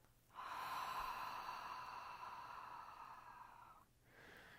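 One long, deep exhale blown through an open mouth during a prenatal strength and toning exercise, a steady breathy rush lasting about three seconds before a quieter breath begins.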